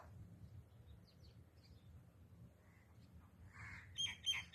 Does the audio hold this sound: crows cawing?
yes